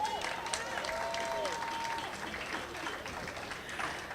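Faint, steady applause from a crowd throughout, quiet and somewhat distant, with a brief tonal whistle-like sound early on.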